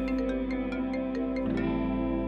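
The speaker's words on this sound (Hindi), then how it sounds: "फोन आ रहा है आपका।" A phone rings with a tonal, electronic, slightly distorted melody made of repeated pulsing notes over a sustained hum, steady and fairly loud, with no speech.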